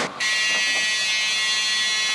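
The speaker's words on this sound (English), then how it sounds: "Back emergency exit buzzer is working." A bus's rear emergency exit buzzer blares in a loud, steady, continuous electronic tone that begins abruptly after a brief moment and holds unchanged throughout, with no talking.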